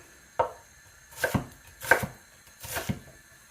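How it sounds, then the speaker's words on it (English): A knife slices through an onion on a cutting board, with four distinct chopping strokes spaced about half a second apart, close and crisp with no talking. "we're going to want to scrape this bit of skin off, otherwise it's just going to be too slidey to slice"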